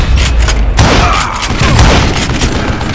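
Gunfire in the Western shooter Call of Juarez Gunslinger, a loud booming shot followed by dense, rumbling blasts that carry on without talk.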